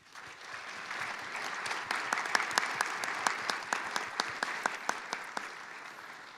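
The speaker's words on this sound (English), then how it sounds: "A big round of applause for all of them." Audience applause at a School of Dentistry commencement ceremony, a dense, steady round of clapping that swells and holds, with a few distinct louder claps standing out near the front.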